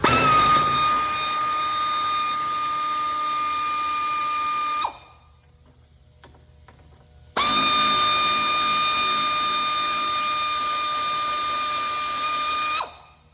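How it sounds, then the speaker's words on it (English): A powered ratchet with a T30 Torx bit undoing the window regulator bolts on a 2008-2020 Dodge Grand Caravan: two close, high motor whines of about five seconds each, separated by a short quiet gap. "So I got a T30 torque bit here."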